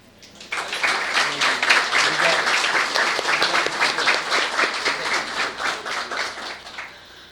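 Applause at a solemn church session for Pastor's Day, a dense, steady round of clapping from a seated audience that starts abruptly and keeps going evenly for several seconds.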